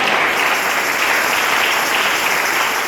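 A church congregation claps steadily and densely throughout, a loud, even wash of applause from many hands with no pauses.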